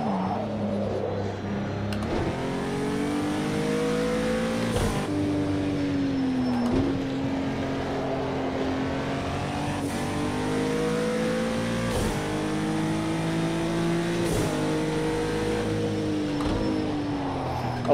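A 2017 Acura NSX engine in Project Cars 2 revs continuously, its pitch climbing through gears and dropping sharply on downshifts, loud and close with brief clicks of gear changes.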